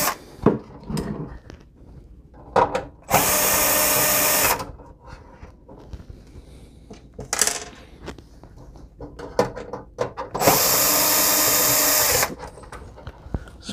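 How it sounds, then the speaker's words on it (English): A power tool backs screws out of the housing of an Arcade1Up Outrun cabinet, with two loud, close whirring runs of about two seconds each amid scattered clunks and handling noise. "Now we have 6 screws, 2, 4, 5, 6 on each side. So we just want to remove all of those and get this housing off."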